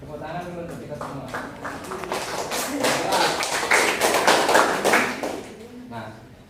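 A classroom of students clapping together, a burst of dense applause that swells in the middle and fades, with a teacher's voice heard at the start and end.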